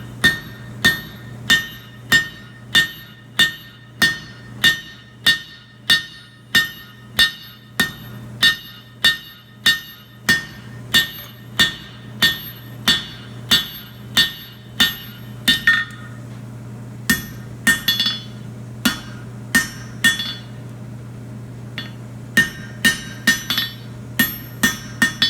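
Steady, evenly spaced hammer blows ring on an anvil while wolf jaw tongs are forged, dozens of sharp metallic strikes close by over a constant low hum, the rhythm loosening and becoming irregular toward the end.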